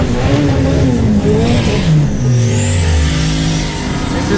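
Honda Civic accelerating hard at around 121 miles an hour, a loud, continuous engine roar with rising and falling pitch as it revs through gears, close and steady with no talking.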